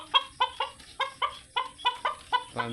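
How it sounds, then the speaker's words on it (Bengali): Paomi chickens at a market stall where birds are sold, giving a close series of about nine evenly spaced loud clucks in a steady rhythm, with no talking over them. "এই যে পাওমি মুরগি দেখেন"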